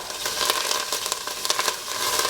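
Garlic hisses loudly in a very hot pan for a fish curry, a steady, crackling sizzle with sharp spattering pops and no talking.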